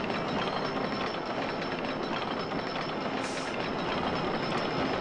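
Roller coaster trains run in the OpenRCT2 game, a continuous rumbling rail noise with a clattering texture, steady and fairly loud throughout with a brief high chirp near the end, no talking.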